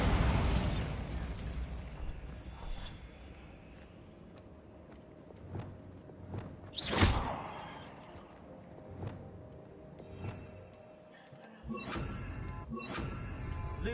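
A Bombarda blasting spell going off in a Hogwarts video game: a sharp explosive burst near the middle, with smaller pops and crashes scattered before and after over a steady ambient game background.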